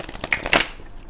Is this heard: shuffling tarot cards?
yes